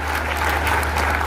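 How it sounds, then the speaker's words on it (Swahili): Applause for Governor Wamatangi at a memorial gathering for Betty Bayo in Kiambu: a brief, steady wash of crowd clapping, dense and even from start to finish. "Mpigieni gavana makofi"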